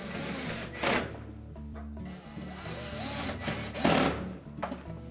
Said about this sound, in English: Tighten them securely.